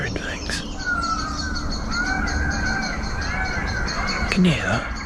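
Peacock calling outdoors on a hot day in an open camping area, its loud, wailing honks repeating several times over a constant layer of other bird chatter.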